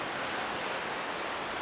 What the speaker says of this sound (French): le vent s'est levé un petit peu.